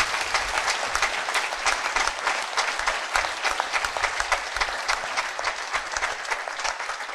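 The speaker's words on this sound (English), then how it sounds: "Give a clap for Jesus Christ." Church congregation at a prophecy service with anointing water clapping for Jesus Christ: sustained, energetic crowd applause with rhythmic surges throughout, loud and close.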